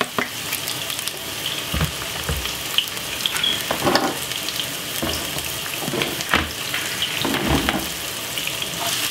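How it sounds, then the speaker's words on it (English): Steady crackling sizzle of vegetables frying in a pan, with occasional clinks and stirring scrapes, close up and continuous. "You might hear that beautiful fry."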